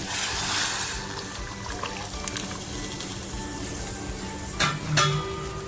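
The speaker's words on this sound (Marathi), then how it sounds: "जे अळणी पाणी केलेलं आहे ना ते अळणी पाणी टाकते" Water poured into mutton curry masala sizzling in a pan, a soft hiss and bubbling with light clinks of utensils against the pot, fairly quiet and close.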